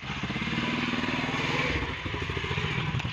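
A motorcycle engine runs steadily close by, a continuous rumbling drone with a rapid pulsing beat and some mechanical clatter throughout, with no talk over it.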